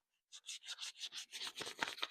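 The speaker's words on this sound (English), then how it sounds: "We're going to put a hand sanding on this thing." Light-grit sandpaper rubbed by hand along a drop point skinning knife blade made from a sawmill blade: about a dozen close, rhythmic scraping strokes that quicken toward the end, heard alone.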